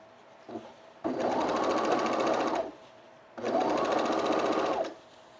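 A sewing machine stitches a French seam on a set-in sleeve of a sunblock top, two steady humming runs of about one and a half seconds each separated by a short pause, close and alone.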